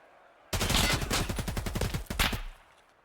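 Rapid gunfire in the competitive shooter game Hunt: Showdown, a loud, close, dense burst of overlapping shots lasting about two seconds before cutting out, with no voices.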